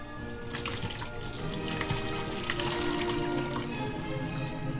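Whey and curds pour into a colander lined with damp cheesecloth, a steady splashing, running-water rush lasting throughout at close range, with no talk.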